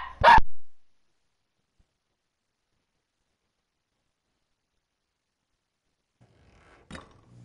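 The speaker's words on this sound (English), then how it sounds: "Do apologise about the barking, but it's not my dog." A single sharp dog bark sounds loudly at the start, followed by long silence and then a fainter, muffled yelp or bark near the end.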